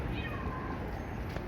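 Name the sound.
cat meowing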